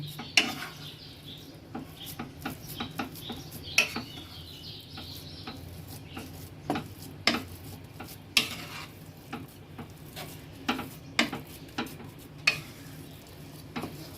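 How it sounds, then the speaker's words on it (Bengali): A spoon stirring a sandesh mixture in a pan over a low flame, with irregular scrapes and clinks against the metal over a faint sizzle, close and unhurried. "তিন মিনিট মতন এটা নাড়লেই আমার হয়ে যাবে।"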